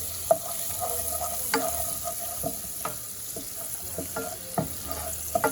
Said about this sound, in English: Gonna give it a good stir in the butter.